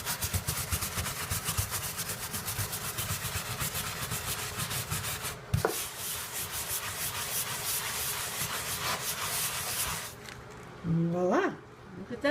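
A gloved hand scrubs a dampened surface with BKF cleaner, making a continuous rough rubbing that dips briefly in the middle and pauses near the end before a short final burst.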